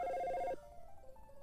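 A telephone rings in Dino Crisis as a rapid electronic warbling trill, loud and clear for about half a second, then falls away to faint room tone with no talk.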